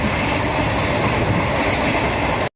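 A passenger train runs on the mainline between Trichy and Tambaram near Kuthalam station, heard from inside as a loud, steady rumble of wheels on rails with faint rhythmic clatter, cutting off abruptly at the end.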